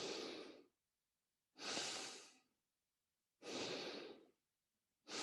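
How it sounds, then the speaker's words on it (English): Slow breathing with the chest rising and falling, heard as three full breathy exhalation-like bursts with quiet gaps between them, close and soft, with no talking. "Compare this movement to breathing, raising the chest and lowering it again."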